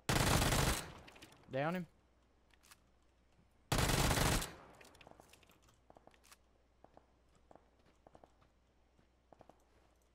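Uzi submachine gun fire in a squads video game rings out in two loud, dense bursts, one right at the start and another about four seconds in, followed by scattered faint clicks while a voice speaks briefly.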